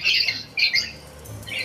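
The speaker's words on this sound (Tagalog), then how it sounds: "ang kanyang alagang lovebirds" Pet lovebirds give harsh, shrill squawks, several loud bursts close by with short pauses between them.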